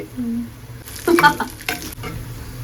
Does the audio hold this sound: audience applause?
no